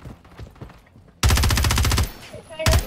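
A loud, sustained burst of rapid video game gunfire from several guns erupts after quiet clicks, cuts off, then a shorter burst follows, all fairly close.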